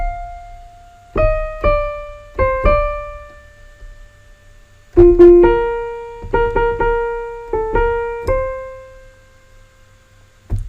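Two short phrases of clear, bell-like synthesized notes in 6/8 time play in a lilting rhythm, with a pause between them, each ending on a sustained tone.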